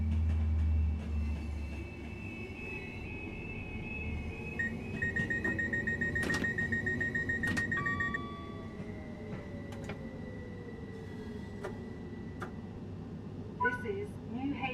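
In the Train Sim World 6 video game, a train rolls around a curve into Newhaven Harbour station, with a steady rumble of wheels on the rails and cab alert tones and beeps over it, while a person talks throughout.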